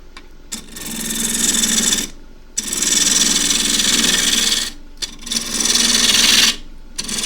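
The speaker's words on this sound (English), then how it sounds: "Now you hear it's not very good timber as I cut it." Poor-quality timber being cut on a wood lathe while turning a wig stand: a loud, steady broadband rasping scrape in several long passes, broken by short pauses, with no talk.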